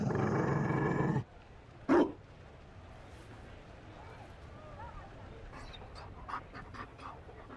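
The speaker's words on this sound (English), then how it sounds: "They don't breed Mabari in Olay." A Mabari war dog in Dragon Age Inquisition pants and gives a short growl at close range after a burst of game sound, then faint movement and small clicks follow.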